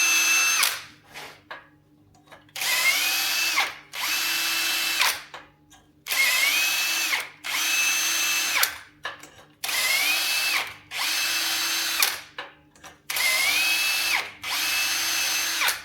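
A power drill tapping M5 threads whirs in four repeated bursts of a few seconds each, separated by short pauses, close and loud with no voices.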